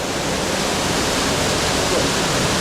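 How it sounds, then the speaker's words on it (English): A waterfall roars inside an underground river cave at Caverna do Diabo, making a loud, steady, unbroken rush of water that fills the whole moment with no pauses. "Look at this amazing waterfall."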